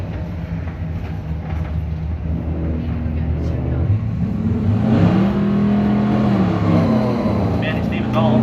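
Street drag racing cars, a Ford against a Cadillac, launch and accelerate at a strip, their engines roaring and rising in pitch under a loud announcer speaking throughout.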